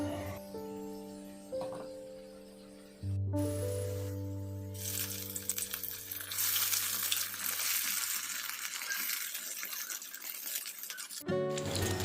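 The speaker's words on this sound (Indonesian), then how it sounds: "sekarang aku mau goreng" Potato perkedel patties coated in beaten egg frying in a pan, a steady close sizzle that swells after a quiet start and runs on with low background hum, no talk.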